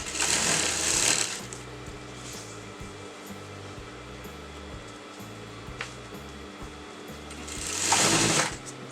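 Sewing machine stitching a small fold of salwar fabric onto canvas, a steady rhythmic motor hum with a louder whirring burst at the start and again near the end, close and alone without talk.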